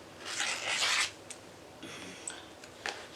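Fabric being trimmed for a Flying Geese quilt block: a close rasping cut in the first second, then a few lighter snips and scrapes, no speech.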